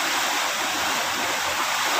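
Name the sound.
floodwater rushing during typhoon Carina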